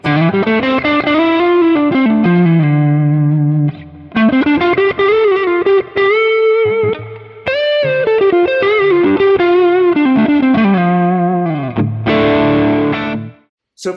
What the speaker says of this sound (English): And then if we kick it with the Prince of Tone.